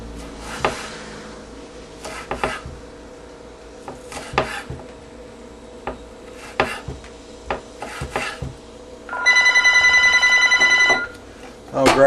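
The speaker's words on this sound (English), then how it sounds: "Oh great, phone!" A telephone rings in a home kitchen while ramen noodles are being prepared, giving one sustained electronic ring burst near the end over rhythmic knife chopping on vegetables and kitchen clatter.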